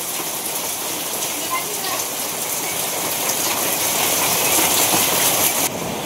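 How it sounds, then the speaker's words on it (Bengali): Dense, steady rain pours down over flooding land in a continuous hiss that swells louder toward the end, with no voices. "আরো বৃষ্টির স্পিড বাড়তেছে দেখা যায়"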